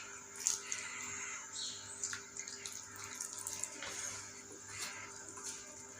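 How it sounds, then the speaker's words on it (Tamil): Small splashes of water sprinkled into Mysuru bonda batter during hand mixing, faint and close, with soft wet squelches and light patters scattered across a quiet kitchen. "கொஞ்சமாக தண்ணி தெளித்து கலந்துக்கலாம்."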